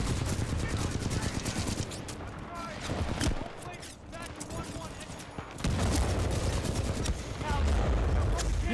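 Gunfire in the video game Titanfall 2, rapid automatic bursts and heavy booming shots in loud, dense volleys with brief lulls, while a player talks over the action.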